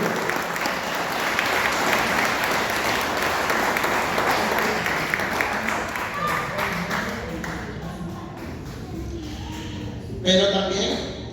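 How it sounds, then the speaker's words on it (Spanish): A church congregation applauds loudly and continuously, a dense wash of clapping that fades slightly near the end before a brief voice rises over it. "Vamos a darle un aplauso al Señor."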